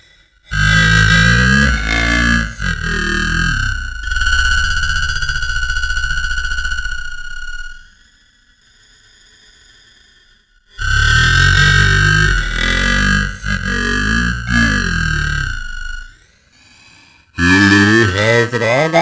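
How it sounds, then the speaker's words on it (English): Granular synthesizer built in Pure Data, its grain speed pushed out of alignment so the output turns harsh and distorted; loud buzzing tonal bursts with a steady high drone, broken by gaps of near silence, alone without talk. "when you throw your grain speed out of alignment, you're going to get some distortion"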